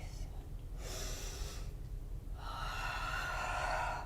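Deep breathing during a yoga exercise, two long airy breaths, the second longer and fuller, close and clear over a low background rumble.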